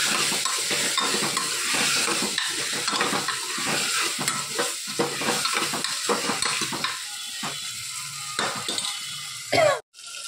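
Food is stirred and mixed in a frying pan, with steady scraping and light sizzling for about ten seconds and a sharper clatter near the end. No one speaks.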